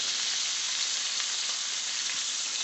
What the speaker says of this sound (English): I'm using bacon grease just to get a bit of extra flavor into it.